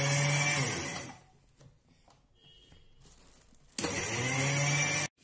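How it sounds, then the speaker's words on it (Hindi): An electric mixer grinder coarsely grinding spices for green chili pickle: a loud whirring motor run, a pause of a few seconds, then a second short burst, with no talking. "एक बार जार को घुमा देंगे बस बिल्कुल, और तभी मिक्सी को बंद कर देंगे।"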